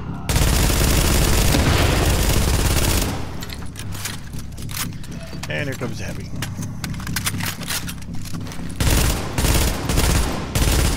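Bursts of rapid gunfire crackle through a busy video game scene, loud and sustained, with someone talking over the shooting.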